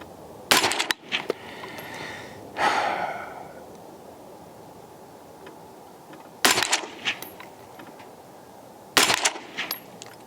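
Suppressed Radical Defense MK1 PDW compact rifle fired at an outdoor range during zeroing: three separate sharp shots spaced several seconds apart, with quiet ambient noise between them.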